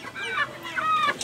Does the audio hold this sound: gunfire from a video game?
no